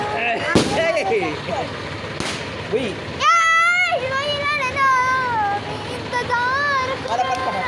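Firecrackers bursting at a Lakshmi Puja celebration, with several sharp cracks in the first few seconds, followed by children shouting and talking loudly.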